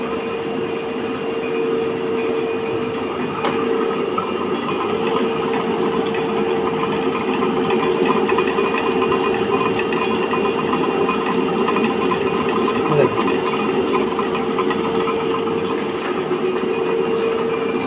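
A separately excited DC shunt motor runs on a lab test bench near 1500 rpm, giving a steady, close electrical-mechanical hum with a constant tonal whine that holds unchanged throughout.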